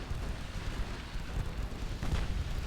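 Torpedo detonation in the naval warfare game Ultimate Admiral Dreadnoughts: a continuous deep rumbling boom with noisy roar, swelling slightly toward the end, no voices.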